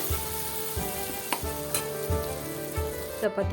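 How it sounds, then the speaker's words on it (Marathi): Tomato frying in oil in a pan, softening for a spicy curried vegetable dish: a steady, close sizzle and crackle throughout, with a few soft stirring knocks and no talk. "तो आता तेलात घालून थोडा नरम होईपर्यंत त्याला शिजवून घेते"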